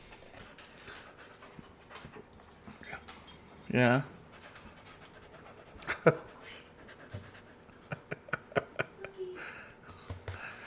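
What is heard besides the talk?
two puppies panting and whimpering while chewing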